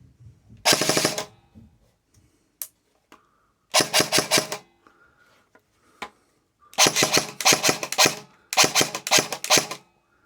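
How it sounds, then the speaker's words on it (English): Specna Arms SA-F03 airsoft rifle firing several close, loud bursts: one short burst, a second burst, then two longer full-auto strings near the end, separated by quiet gaps with a few faint clicks. "A simple switch of a fire selector allows you to keep on pewing now."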